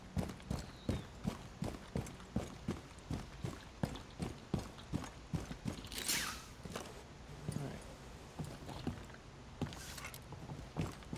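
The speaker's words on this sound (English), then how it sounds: "I just heard footsteps." Footsteps in the Rainbow Six Siege video game, a quick even run of soft thuds that moves closer and then fades, with a short whoosh in the middle.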